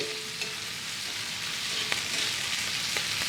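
A steak sears in a hot pan on a gas stove while it is basted with melted butter and thyme, giving a steady loud sizzle with a few light scrapes and spoon clinks and no talking.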